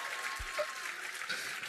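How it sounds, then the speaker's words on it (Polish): A studio audience at the Wheel of Fortune game show claps for Michał in a short, even wash of applause, heard at a moderate level throughout. "dajcie brawa dla Michała"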